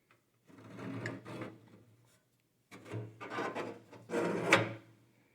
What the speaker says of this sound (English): hopefully this right panel will slide out